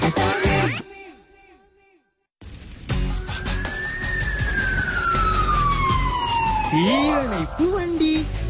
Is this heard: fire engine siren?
yes